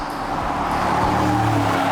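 A Mercedes-AMG G 63 engine and exhaust rumble close up during a downshift, a steady low droning growl that swells slightly toward the end, with no talk.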